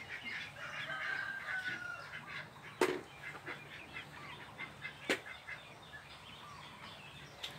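A white-spotted bantam rooster crows in the morning at a rural home, a few moderately loud crows with softer clucking and faint bird calls around it.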